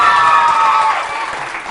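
Studio audience at a Pakistani television show applauding and cheering loudly, a dense crowd roar that eases slightly toward the end.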